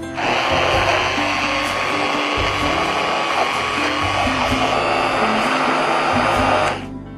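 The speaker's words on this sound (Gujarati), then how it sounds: "માવો અને બિસ્કિટ એ એકદમ સરસ ક્રશ થઈ જાય એટલું બ્લેન્ડ કરવાનું છે" A blender runs continuously at full power, crushing mawa and biscuits for orange kulfi. The steady, loud motor whir lasts about seven seconds, then cuts off abruptly at the end.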